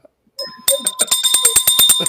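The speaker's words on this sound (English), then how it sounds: "Callie, ring the bell every time someone says he gets it." A small bell is struck repeatedly, a quick run of bright, ringing dings that continue in an even, rapid rhythm close by, with a lingering tone beneath.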